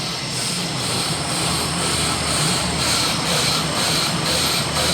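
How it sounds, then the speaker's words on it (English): CO2 fills cans on a packaging line with a loud, continuous hissing drone and faint, regular pulses running through it. "that's CO2. Sounds like like the little engine that could. Pop, pop, pop, pop. Every can is getting filled with CO2."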